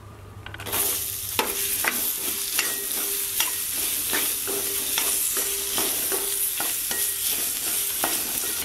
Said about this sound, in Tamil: வெங்காயம் வந்து ரொம்ப நேரம் வதங்க வேண்டியதில்லை, லைட்டாக வதங்கினாலே போதும்.